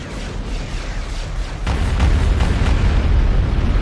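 Bombardment explosions in the Star Wars Empire at War strategy game roll in as loud, continuous booming rumble, with several heavier blasts thickening the din partway through.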